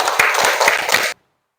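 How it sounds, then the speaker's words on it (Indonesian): Applause for a group of students in a classroom lesson on zakat: about a second of dense, brisk clapping from a small group, which stops abruptly into silence. "tepuk tangan untuk kelompok 1"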